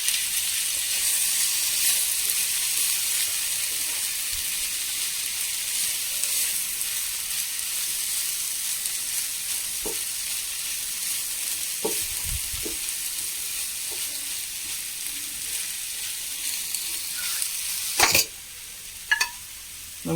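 Chopped cooked chicken, boiled with turmeric, is stirred into a frying pan for a momo filling. A steady close sizzle hisses throughout, broken by occasional sharp scrapes and knocks of the spoon, with no voices.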